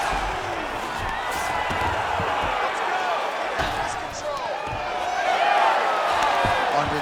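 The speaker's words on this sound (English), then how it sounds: "Oh, you heard the crowd pop after that grueling ground battle." At a UFC flyweight fight between Jedrzejczyk and Andrade, a large arena crowd cheers and roars in a steady, loud wash that swells toward the end, with a commentator talking over it.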